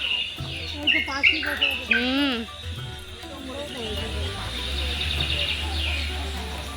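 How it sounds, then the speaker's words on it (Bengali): Bright, rising bird chirps and tweets ring out near a large Lakshmi idol display, clustered early then fading into a busy background, with people talking over and around them. "পাখির আওয়াজ দিয়েছে, কি সুন্দর।"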